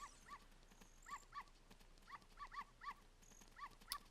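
A small white dog in The Legend of Zelda: Ocarina of Time gives a steady run of short, high yapping barks at a lively, fairly even pace, fairly quiet and with no voices.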